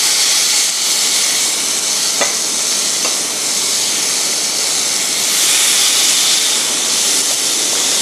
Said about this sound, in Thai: ทีนี้เราก็นำเนื้อหมูของเรานะคะลงย่างเลยค่ะ